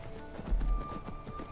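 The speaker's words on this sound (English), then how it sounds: "It is kind of an undead demon horse" Hooves of Shadowmere, an undead demon horse in the video game Skyrim, clip-clop in a quick, steady rhythm of faint thuds with one stronger impact near the middle, heard alone without talk.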